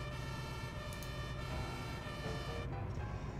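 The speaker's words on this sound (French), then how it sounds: "Écoutez ça, j'ai mis les sirènes" A continuous wailing emergency vehicle siren in the firefighting simulation game 112 Emergency Call 2, loud and steady with layered tones, droning without pause for the whole stretch.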